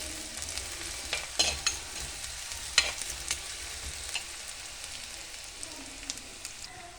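Garlic fries in hot oil for a pomfret curry, a constant soft sizzle with occasional sharper pops and stirring clatters, close up and with no talking.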